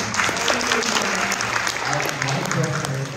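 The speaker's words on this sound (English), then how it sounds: "Big clap for her, please." Applause from an audience at an entrepreneurship motivational talk rolls on steadily, with murmuring voices and a low hum beneath the clapping.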